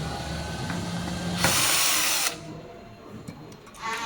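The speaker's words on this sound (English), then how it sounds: "we remove the last screws" A power drill backs screws out of the pickup door on a robot machine, a close, loud whir lasting under a second amid workshop noise, with faint background sound around it.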